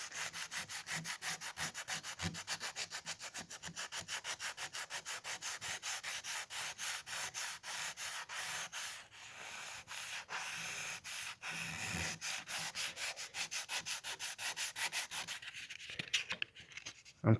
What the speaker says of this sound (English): sand the carbon fiber itself, just the clear coat I'm trying to take off.